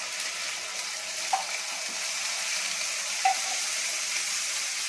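Ginger, turmeric, cumin powder and garlic paste fry in a pan, giving a steady, even sizzling hiss throughout with a couple of faint clicks from stirring, heard close and alone.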